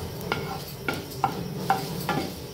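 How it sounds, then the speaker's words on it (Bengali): Mustard seeds frying in a pan for an aloo chop snack, with a spoon scraping and stirring in four or five distinct strokes over a soft, steady sizzle, close and fairly quiet. "ভেজে নেব, একটু লাল লাল করে ভেজে নেব।"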